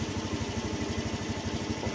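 A motorcycle engine idles steadily with a fast, even pulsing chug, close and moderately loud, heard alone.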